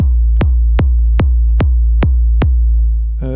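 Deep 808-style synthesized kick drum from an Akai Force drum synth, struck seven times at a steady, even pace, each a booming low thump with a short decaying tail, ending on a brief higher synth tone.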